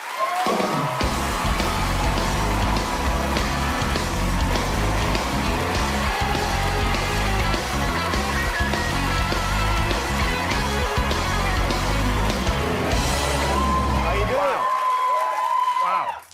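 A studio audience on a talk show cheers, whoops and applauds to welcome actor Jeffrey Wright. The noise stays loud and steady for about fourteen seconds, then cuts off sharply into near silence.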